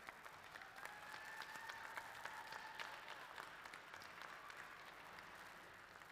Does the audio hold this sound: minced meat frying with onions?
no